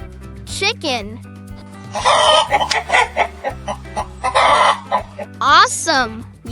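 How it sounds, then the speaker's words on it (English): A chicken clucks and squawks in quick bursts, close and lively, with harsh cackling calls at the start and end and a busy run of clucks in the middle. "Chicken."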